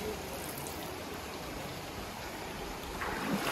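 Flowing stream and waterfall among the hills at Mamalakandam, a steady broadband rush of water heard close and continuous throughout, with no talk over it.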